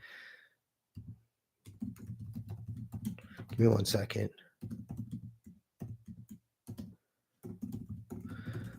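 Quick bursts of keyboard typing come in short runs between bits of someone talking, fairly close and moderately loud.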